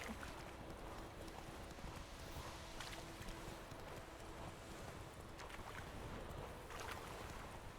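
Horse galloping in The Witcher 3, faint rhythmic hoofbeats over a constant wash of wind and ambient noise.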